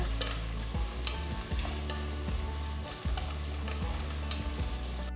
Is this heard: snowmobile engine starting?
no